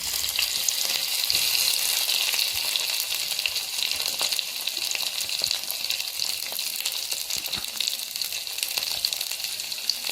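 Ginger and green chillies frying in hot oil with lentils for savory appam, a steady close sizzle with crackling pops running throughout, no voices.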